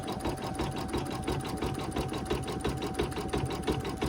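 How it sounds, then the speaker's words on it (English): An embroidery sewing machine stitching a satin-stitch outline on a daffodil coaster design, a close, loud, steady mechanical hum with fast, even needle beats throughout. "Okay, so it's doing that nice satin stitch going around."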